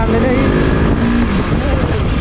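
A motorbike engine labours up a hill road in Nepal, loud and close throughout, with a steady droning strain and pitch that rises and dips under wind rush.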